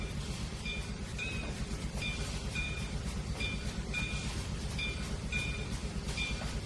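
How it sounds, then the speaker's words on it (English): A steam locomotive in the Trainz 2019 train simulator game, C&O Hinton route, rolling along with a steady rumbling run and regular bright chuffing beats repeating at an even pace. "Here he comes. Chuffing his way up here."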